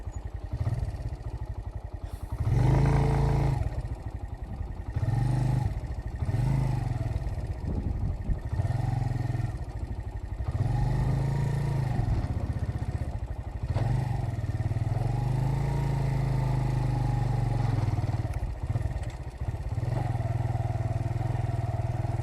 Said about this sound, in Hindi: ये रेतली ज़मीन है जी, और इसमें आपको पता है फिर बाइक चलाना खासा मुश्किल हो जाता है।